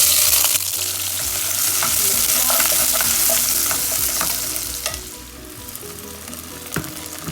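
Chopped onions fry in a pan with a loud, continuous sizzle and crackle, with occasional stirring knocks and scrapes, cooking as the base for a spinach burek filling; close and steady, with no voices.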